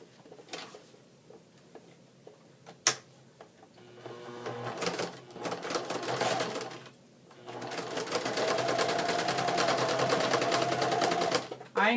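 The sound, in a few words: sewing machine sewing fabric edges of a pencil bag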